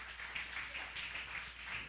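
A church congregation applauds during a sermon, a steady crowd of dense hand clapping heard faint and distant throughout.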